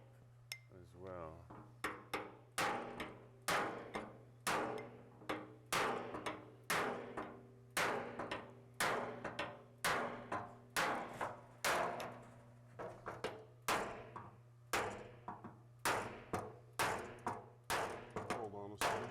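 A hammer strikes the metal body shroud of an Austin-Healey 3000 car in a steady series of sharp, ringing blows, about one per second, with a constant hum behind them and brief talk near the start.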